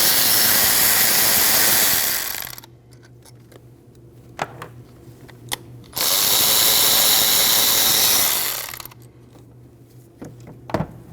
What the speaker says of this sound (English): Remove your 2 8mm bolts.